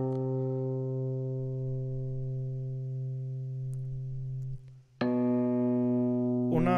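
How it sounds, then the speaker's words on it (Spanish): A sustained Electric 88 electric piano chord rings steadily, then a brief pause and a new chord struck, played solo with no voices. "para hablar del piano, estoy utilizando Electric 88. Lo voy a poner solo para que escuchen lo que está pasando"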